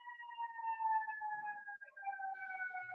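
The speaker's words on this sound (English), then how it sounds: "I don't know if you all can hear the siren going off in the background, but I can." A siren wails in the distance, holding a steady, sustained tone that slowly drifts lower with a faint rise near the end. It stays moderately quiet and continuous throughout, with no talking.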